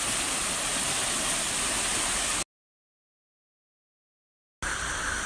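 Steady roaring rush of Trümmelbach Falls and the Trümmelbach river in Switzerland's Lauterbrunnen Valley, loud and continuous, cutting out abruptly for about two seconds before resuming.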